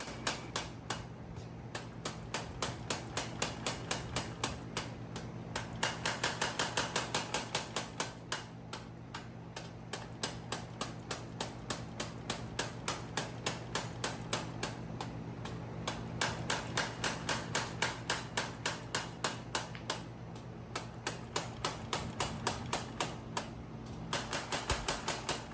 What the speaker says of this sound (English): This is a Champion power hammer that he's using to hammer this out on.